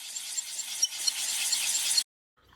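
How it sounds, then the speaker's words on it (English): Wooden box parts are hand-sanded on a sanding board. The rasping, hissy strokes run continuously for about two seconds, close and steady, then stop abruptly, leaving silence. "I'm going to condense about 2 hours of sanding into about 15 seconds right here"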